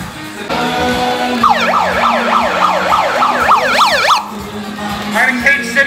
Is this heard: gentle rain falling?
no